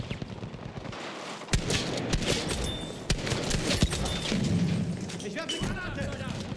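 Model 37 shotgun blasts fired from the hip in Battlefield 5, several sharp booming shots at irregular intervals over dense game noise and gunfire, with a voice talking throughout.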